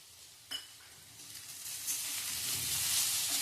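Shravan ghevda beans sautéing in a pan after salt and sugar go in, a soft sizzle building steadily with a brief clatter of stirring near the start and no talking.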